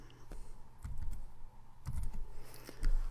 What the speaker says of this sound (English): then I actually type in the password